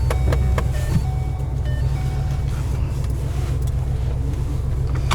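A steady, loud whooshing air conditioning fan drone inside an 800hp 2012 Shelby GT500, with a low engine rumble underneath and a few faint clicks and rattles.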